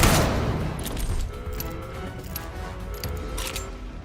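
Gunfire erupts in the Atomfall video game, with a loud burst of rapid shots and booms at the start, then scattered sharper cracks and impacts over a rumbling game soundscape.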